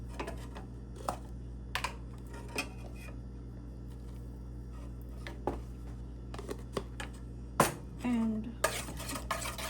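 Cake batter mixed in a bowl with a utensil, giving scattered clinks and scrapes against the bowl over a steady low background hum, with a brief spoken word.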